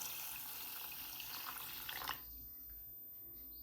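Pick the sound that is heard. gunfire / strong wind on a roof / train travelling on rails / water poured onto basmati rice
water poured onto basmati rice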